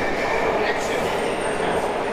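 A Warsaw metro train hums and rumbles steadily in an underground station or tunnel, a loud continuous rolling roar with a faint high whine, and voices talking over it.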